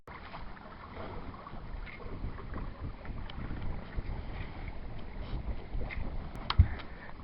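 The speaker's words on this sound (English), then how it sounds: "Those sails are just about filling." A sailboat moving through the water in a breeze at a quiet pace, with a steady low rush of water against the hull and wind noise on the microphone, plus occasional light creaks and knocks.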